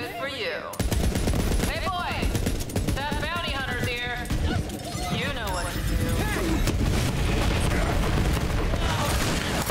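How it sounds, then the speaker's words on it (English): Rapid automatic gunfire bursts from shooting in the Borderlands 3 open-world first-person shooter, dense and loud throughout with game effects layered in and someone talking over it. "So I'm literally just running around shooting stuff now."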